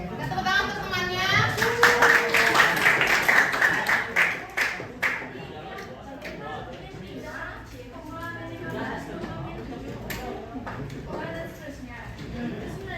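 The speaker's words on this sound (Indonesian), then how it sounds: "kita tepuk tangan untuk temannya" A school class claps hands in a brief burst of applause mixed with children's voices, then settling into classroom chatter.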